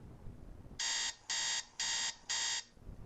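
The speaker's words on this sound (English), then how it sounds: "that alarm clock should be going off in your head" Alarm clock ringing in four bright, evenly spaced electronic bursts, each about a third of a second long with short gaps between them, loud and clear over a faint low background.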